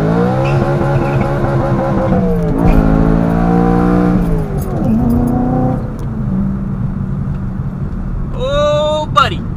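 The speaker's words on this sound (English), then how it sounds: "Quick little burnout maybe?" A manual BMW E92 M3 with a muffler delete does a burnout, its loud engine revving up and down in repeated rising and falling pulls with tire squeal, ending in a brief high-pitched chirp.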